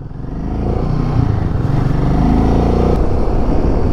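A Royal Enfield Himalayan motorcycle speeding up on a scenic Ladakh mountain road from Hanupatta to Leh, its thumping engine close and loud, swelling in volume over the first seconds and then holding a strong, steady drone.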